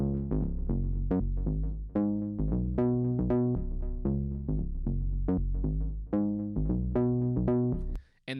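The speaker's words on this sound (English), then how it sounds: "So the bass sounds like this." Overdrive bass synth patch from the Arturia OP-Xa V plugin in a house-style track, playing a bouncy line of short, fat, harmonically rich notes with a trailing delay, loud and upfront with no voices.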